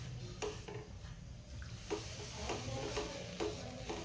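Milk is stirred into a pedha mixture in a pan, producing a quiet, low sizzle with regular spoon scrapes against the pan roughly every half second, and no voices.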